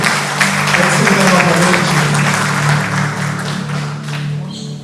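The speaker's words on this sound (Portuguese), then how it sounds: "Aplauda Jesus por isso" A church congregation applauds steadily for several seconds during a Sunday service, a dense wash of clapping with a low hum of voices beneath it.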